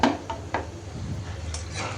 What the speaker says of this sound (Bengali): এখন মেথিগুলো দিয়ে দিব।